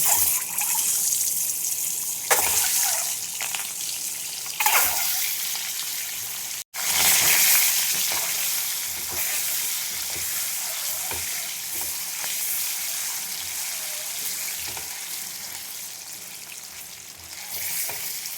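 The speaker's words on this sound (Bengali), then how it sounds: "এইভাবে মাখিয়ে নিয়ে আমি ডিমগুলো ভেজে নেব, হালকা করে ভেজে নেব" Spice-coated eggs fry lightly in oil with a loud, continuous sizzle and bubbling crackle, close up and broken only by a brief dropout partway through.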